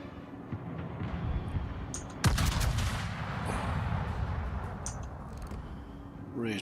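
Anti-aircraft guns on a British warship in World of Warships thump in a steady rumbling barrage, with a sharp louder burst partway through over constant low naval background noise.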